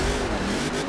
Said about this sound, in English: So I got the car full gas right now.